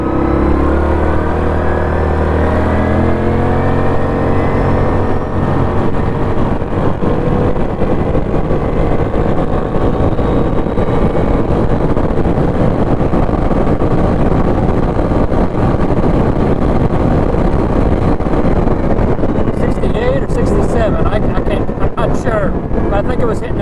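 Yamaha Kodiak 700 ATV engine with a clutch mod, accelerating hard toward top speed through quick upshifts, a loud steady drone with rising tones and wind noise, heard close up with someone talking over it.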